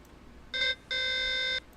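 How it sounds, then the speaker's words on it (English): Starship alarm sound effect from a Star Trek Adventures tabletop game session: two bright electronic tonal bursts, a short one followed by a longer sustained tone, loud and clear with no talk. "an alarm goes off"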